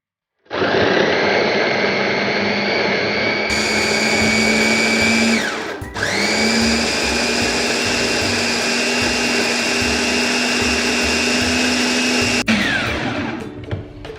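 An electric blender grinds spice paste for shrimp and petai curry, running loud and continuous for about fourteen seconds with a whining motor. It shifts speed once and briefly cuts out partway through.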